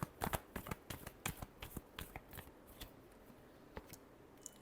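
Tarot cards shuffled by hand in a quick burst of sharp riffling snaps that thin out to a few scattered taps, close and otherwise quiet.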